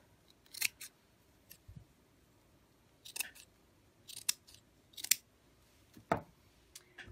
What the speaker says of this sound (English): we're going to take this burlap fabric and just cut it into three squares